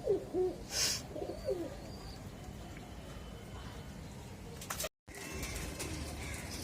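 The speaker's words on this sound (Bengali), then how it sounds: "কিছু কবুতর বামে নেমে গেছে আর কিছু কবুতর এখনো আকাশে আছে" Domestic pigeons in an outdoor loft area, with soft low cooing near the start, a brief chirp, and faint steady background noise; flapping of wings is not clearly evident.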